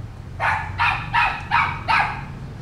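A dog barks five times in a steady rhythm, close and fairly loud, with no voices over it.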